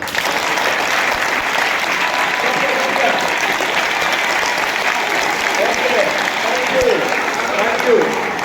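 Students in an audience at an awareness programme run by a police inspector clap together in a dense, continuous round of applause that stays loud throughout, with a voice speaking over it.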